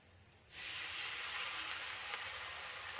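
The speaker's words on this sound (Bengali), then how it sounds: "এর মধ্যে এবারে আমি জল দিয়ে দিচ্ছি" Water is poured into a hot pan holding chili flakes, giving a sudden loud hiss and sizzle that starts abruptly and holds steady, close by with no talk.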